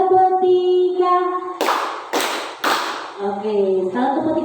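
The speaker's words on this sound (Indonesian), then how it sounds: "Tepuk satu, tepuk dua oke." Three sharp hand claps in a steady rhythm during a positive-culture school activity, loud and close, set between stretches of a voice chanting the clapping count.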